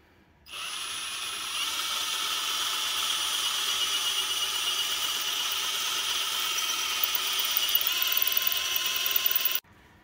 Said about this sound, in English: I am just gonna center punch it, drill the head out